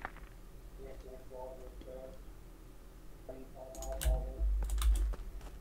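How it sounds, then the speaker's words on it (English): Rapid, intense clicking on a computer keyboard during an Among Us hide-and-seek game, a steady near patter of keystrokes running under voices, with a few louder bursts toward the end. "you can just hear him intensely clicking"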